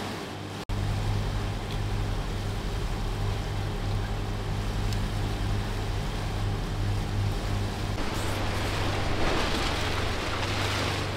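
A boat running on one engine at sea in the Gulf Stream gives a steady low motor drone with a constant hum, mixed with wind and water wash, continuous and close throughout.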